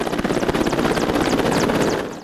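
A Mi-8 military helicopter at a forward base in eastern Ukraine thunders close by, its rotor chopping in a rapid steady beat under loud turbine roar, continuous and strong throughout.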